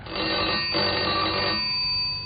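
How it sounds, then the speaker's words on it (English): A telephone rings in a police inspector's office at Scotland Yard, a steady, loud electric ring holding for about two seconds with no voices over it. "A telephone rang in the inspector's office at the yard."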